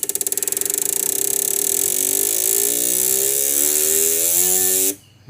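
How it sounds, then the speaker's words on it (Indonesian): A car engine, back in service after ECU repair with its check-engine light still on, is revved close up, its drone climbing steadily in pitch for several seconds before cutting off abruptly. "kita gas naikkan RPM-nya."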